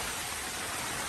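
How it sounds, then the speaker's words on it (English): Rain falls on a Coleman Sundome six-person dome tent, a dense, even hiss of drops on the fabric with no voices. "Now, granted, it is raining"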